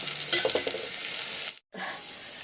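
Spices sizzle and fry in a pan for tomato rasam, a steady close crackle that cuts out briefly near the end before resuming.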